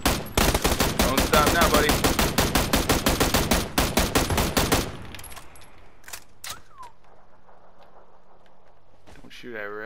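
Rapid bursts of automatic gunfire in the video game PUBG: Battlegrounds, loud and close for about five seconds, then sparse distant shots while players talk over it.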